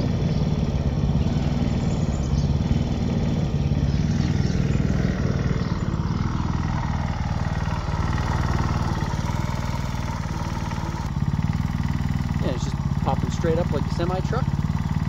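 A Honda WX15 water pump engine, quieted with added muffling, runs continuously with a steady low, buzzing drone at close range and fairly loud, while someone talks over it toward the end.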